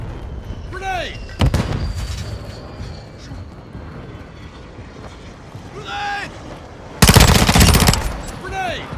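Two loud, heavy blasts erupt in Call of Duty Modern Warfare 2, a grenade explosion among them, the first short and the second a longer rumbling burst near the end, with voices shouting in between.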